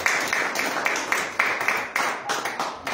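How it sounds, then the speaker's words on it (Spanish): A church congregation claps in a steady, fairly quick rhythm, the hand claps close and moderately loud, with a few faint voices underneath. "Dele palmas al Rey de Reyes"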